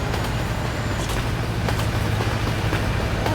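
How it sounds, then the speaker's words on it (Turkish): A steady mechanical rumble of a passing train in the video game Euro Truck Simulator 2, low and continuous, with occasional clanks and a faint high whine early on. "tren geçiyor."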